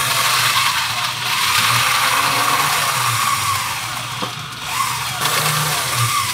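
An electric blender whirs steadily as it mixes a Trader Vic's Zombie cocktail, a continuous loud mechanical drone lasting several seconds with slight rises and dips, no talking over it.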